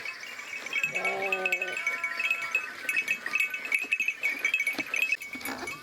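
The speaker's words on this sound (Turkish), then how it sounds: "burada 3-5 tane koyunum onlarla oynayayım" Several Kıvırcık sheep bleat nearby in a Turkish village, one clear wavering bleat early on and more mixed bleating and livestock noise after.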